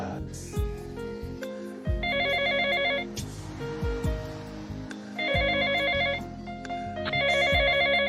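A phone's electronic ringtone chimes loudly in a home in repeating bright bursts about every two to three seconds, layered over a steady melodic music track.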